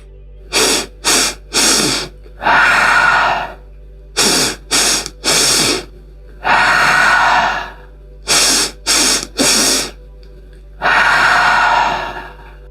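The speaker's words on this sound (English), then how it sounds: "take a breath in and out of the nose to prepare. And inhale, cortisol breath." Rhythmic yoga breathing exercise during a gentle practice, with sharp nasal inhales and exhales: bursts of three quick sniffs followed by one long audible exhale, repeated four times, close and clear with no talking.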